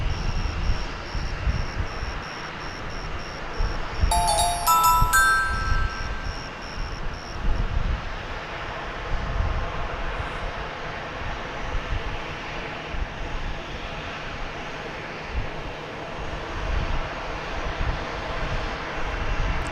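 An American Airlines jet in heritage livery roars steadily at DFW Airport, a sustained broadband engine rumble lasting throughout, with a brief tonal electronic chirp early on and no talking.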